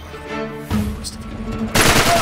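Gunshots in Uncharted 3: Drake's Deception, a couple of sharp loud cracks about a second apart over faint background game sound.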